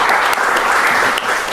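An indoor audience breaks into brief, dense applause, with many hands clapping together in a short burst at an event with a university rector present.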